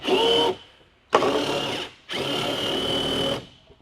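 A power drill tightens screws in three loud, close bursts of whirring with short pauses between them, the last burst the longest.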